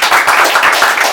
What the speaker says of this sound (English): Everybody clap for Nature, man.